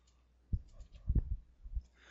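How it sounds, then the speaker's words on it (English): Soft mouse clicks on a computer while cells in an Excel spreadsheet are selected with the Control key held, a few quiet taps spaced irregularly over a faint background hum. "hold down the Control key while you click each desired cell"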